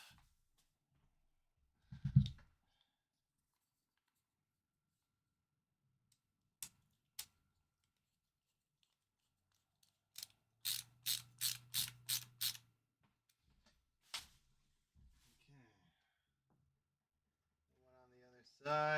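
Screws being driven into a tech project with a small ratcheting screwdriver, sparse faint clicks followed by a quick run of about seven evenly spaced ratchet ticks, quiet surroundings, short sounds ending near the close.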